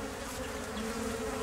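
Honey bees buzz around a brood frame as a hive is set up during a no-kill removal, a steady, dense, close hum that stays level throughout.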